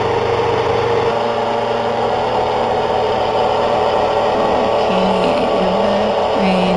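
Electric motor driven by a homemade speed controller at full throttle produces a steady, loud whine and hum throughout, with a few faint tonal blips near the end and no voices.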